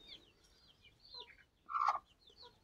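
A broody hen sitting tight on a clutch of eggs gives one short, faint cluck in a quiet setting, with little else around it.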